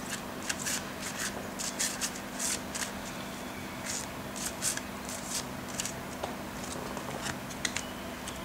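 Cards are riffled and shuffled in repeated quick bursts of crisp flapping, close up, with a low steady hum underneath and no talking.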